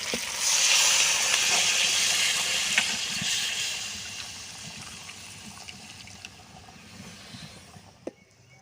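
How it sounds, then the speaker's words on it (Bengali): Hot water poured into browned goat mutton curry in a pot, a steady rushing pour that is strongest early on and gradually tapers and softens, ending with a small knock. "গরম জল করে নিয়েছি, এই গরম জলটা দিয়ে দেবো"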